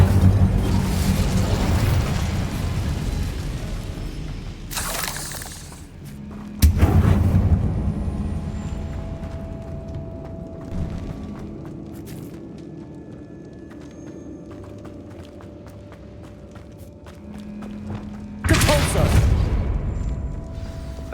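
Incendio fire spell blasts in the Hogwarts Legacy video game, three loud booming bursts spaced apart, each with a fiery rushing tail, over a low game ambience with speech between them.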